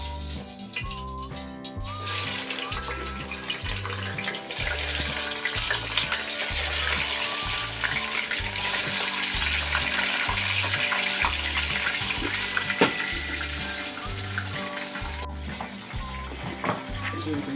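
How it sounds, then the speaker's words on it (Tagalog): A fish resembling milkfish frying in a pan, a steady, continuous sizzle and crackle throughout, with background music running underneath. "Prito muna natin yung bangos."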